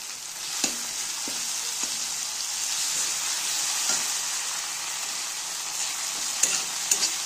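Ginger garlic paste frying with mixed vegetables in a pan for veg mung dal, giving a steady, bright sizzle throughout with a few sharp clicks of stirring.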